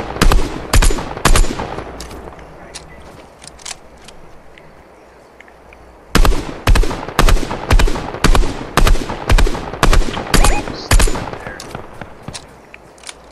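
Rapid bursts of video game gunfire crack loud and close in quick repeated volleys, a pause of a few seconds, then another stuttering string of shots.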